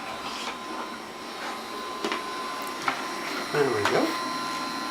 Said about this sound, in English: You're going to help Grandad vacuum.